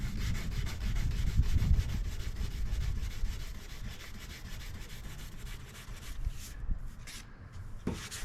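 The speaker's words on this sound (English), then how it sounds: "I'm sanding the clear coat." Steady, continuous sanding rasp on the clear coat of a 2006 Porsche Cayenne, a dense abrasive rubbing close up with no talking, fading slightly near the end.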